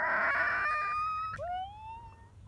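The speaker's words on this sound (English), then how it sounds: "When cars go around the corner too fast, the tires go." Car tires screeching as a car takes a corner too fast: a sustained high tonal squeal, then after a short break a second squeal that slides upward and fades, with no talking.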